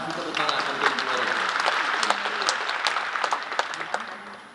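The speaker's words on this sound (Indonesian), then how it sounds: "Bapak Ibu semua, kita kasih tepuk tangan untuk Ibu Meril." Parents at a large parenting seminar in a hall clap for a woman from the audience, a ragged round of applause with sharp individual claps and some voices mixed in.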